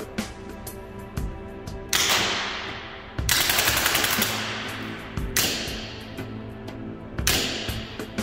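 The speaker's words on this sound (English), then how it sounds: "don't know why I double shot there in semi-auto mode" A Milsig M79A2 Nerf-style AR-15 blaster fires in semi-auto mode, sharp loud cracks with air bursts, several shots spaced a second or so apart, close and without talk.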